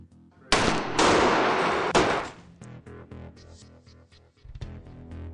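A small chemistry firework rocket made with about 1.5 grams of mix fires with a sudden loud burst of whooshing roar lasting about a second and a half, then gives way to fainter rattling and echoing pops.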